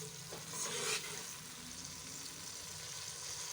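A masala of salt, chili and turmeric roasts in a pan with a continuous close sizzle, a brief louder stir or splash early on, then an even crackle to the end.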